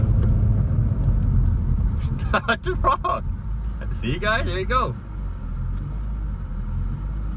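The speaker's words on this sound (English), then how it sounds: "So this car still does have the little idle issue. It'll only die if you let it drop RPM too fast" A Dinan-tuned BMW E46 M3, left sitting for years, idles roughly with a deep, uneven low rumble that sags as if about to stall, while someone talks briefly over it.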